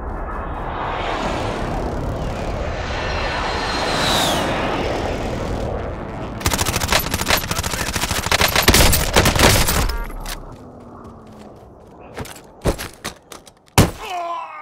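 A video game airstrike: a low aircraft roar builds, then a dense burst of rapid gunfire erupts. Scattered heavy shots and impacts follow as the barrage trails off, loud and close.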